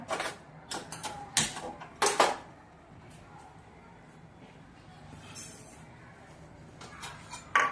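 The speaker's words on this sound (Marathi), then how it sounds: "आता आपण तीळ भाजायला घेऊया" White sesame seeds dry-roasting in a pan, with bursts of scraping and rattling as they are stirred at the start and end, separated by a quieter stretch of faint background.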